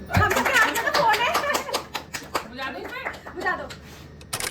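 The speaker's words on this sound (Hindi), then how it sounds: "चलो भाई ताली बजाओ। ताली बजाओ तीनों।" Family members clap their hands together at a Mother's Day celebration, a run of fairly close claps mixed with excited talking and singing voices throughout.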